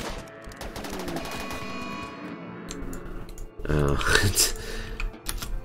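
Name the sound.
charge LMG gunfire in RimWorld video game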